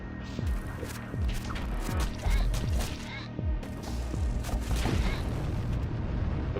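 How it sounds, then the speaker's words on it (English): Siege bombardment cannon in the space game Void War, firing a rapid series of deep booming shots, around a dozen heavy thumps in uneven rhythm over constant battle noise and rumble, loud and close. "Siege bombardment cannon, ladies and gents."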